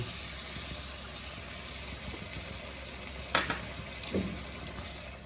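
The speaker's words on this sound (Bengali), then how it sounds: "আমি এবার হালকা গরম জল আমি এর মধ্যে দিয়ে দেব" Warm water going into hot oil in a pan for a Bengali chitol kalia gravy, giving a steady broad sizzle and hiss with a couple of sharper spits and crackles partway through, close and continuous with no talk.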